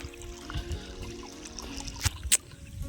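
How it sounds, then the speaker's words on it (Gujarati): Irrigation water running across a farm field, a soft continuous trickle and pour close by, with a couple of sharp clicks or knocks near the end and no voices. "પાણી ચાલુ થઈ ગયું છે, આજુબાજુમાં જવા માંડ્યું"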